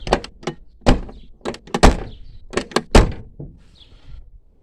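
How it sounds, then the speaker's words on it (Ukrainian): A VAZ-2101 car door shut repeatedly, a series of sharp, close metallic thunks and clunks arriving in irregular clusters, with quieter rattles between them. "Тут вже двері закриваються, дивіться."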